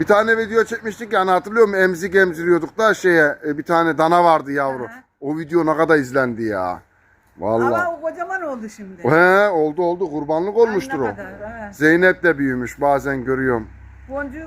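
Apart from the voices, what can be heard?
No everyday noise stands out behind the speech.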